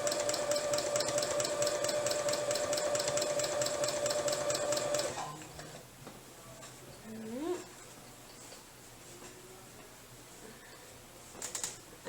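A small domestic sewing machine quilts at a rapid, even motor-driven stitching rhythm for about five seconds, close and fairly loud, then stops, leaving quiet handling and a few faint murmurs of speech.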